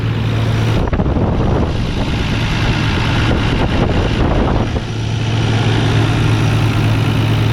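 A Nissan R32 GTR, an engine prone to misfire, idles steadily while warming up, a loud, constant low rumble with a slight dip partway through and no voices.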